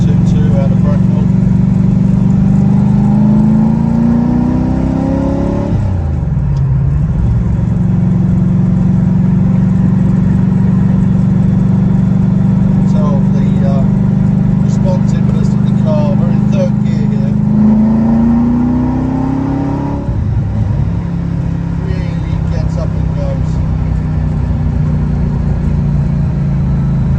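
A GT40 sports car cruises along a road, its engine droning loud and steady with gear changes that shift the pitch, heard from inside the car.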